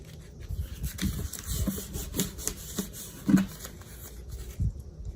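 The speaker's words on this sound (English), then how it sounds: "So again, you rub, pull it up, not coming up, rub a little more." Close rubbing and scraping of a design being transferred onto a ceramic wine glass, in short irregular strokes with a few brief louder scuffs, quiet and alone.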